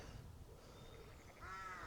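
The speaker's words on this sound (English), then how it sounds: "the only sound you've got is the birds singing and chirping away" Birds call faintly in a quiet church graveyard, with a single crow's caw standing out near the end against a calm, hushed background.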